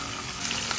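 Chicken pieces sizzle in hot cooking oil in a pan, a steady broadband hiss that swells slightly midway, close and without talk.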